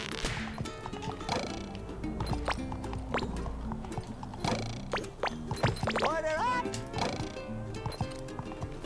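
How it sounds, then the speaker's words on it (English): Horse hooves clip-clop steadily in SpongeBob The Cosmic Shake, with a whinny and cartoon game effects layered over the rhythmic trotting, and a voice talking in between. "Can we ride this horse now?"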